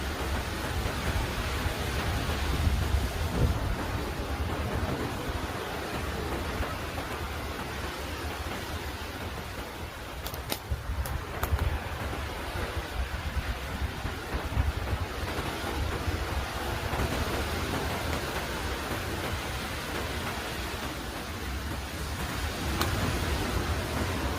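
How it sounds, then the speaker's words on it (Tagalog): Continuous heavy roar of surf pounding the shore, a dense wash of noise with wind rumble, steady and loud throughout with no voices. "Kalakas ng hampas ng alon."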